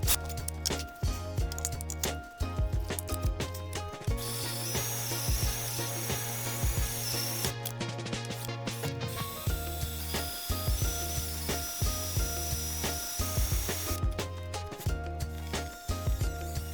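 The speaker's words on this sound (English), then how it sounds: "watching me drill out a load of spot welds" A drill biting through spot welds on the front end of a BMW E30 being cut off, bursts of whining, grinding drilling with short pauses between welds, continuous and up close.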